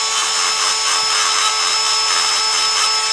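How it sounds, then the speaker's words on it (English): A loud, continuous high-pitched whine of a Dremel rotary tool grinding a model steadily without pause. "taking a Dremel power tool and a lot of noise"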